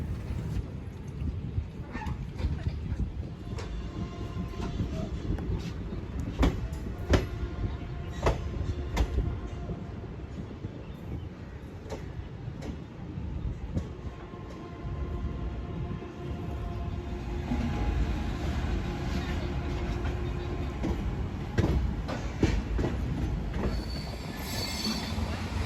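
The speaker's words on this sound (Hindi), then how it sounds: "सामने कौन सी ट्रेन जा रही है यह तो पता नहीं" A train on the Gorakhpur line rolls past at an Indian railway station, a long steady rumble of wagons with repeated wheel clacks and faint squeals, moderately near.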